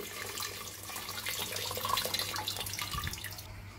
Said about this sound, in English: So here goes the water.